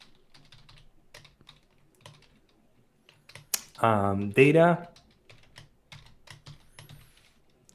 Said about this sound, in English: my typing is really falling apart